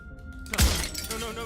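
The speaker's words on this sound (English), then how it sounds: "But his pleas disappear at the sound of breaking glass" Glass shatters in a single sharp, loud crash inside the Slay the Princess video game, with soft ringing fragments trailing off under a low sustained game tone.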